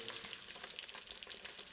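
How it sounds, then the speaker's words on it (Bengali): Eggs fry in a pan during village cooking, giving a steady, close sizzle with crackling pops throughout and no voices. "ডিম যে ভাজা, সেই ভাজার কাজ চলছে।"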